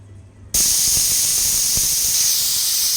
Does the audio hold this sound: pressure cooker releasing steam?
yes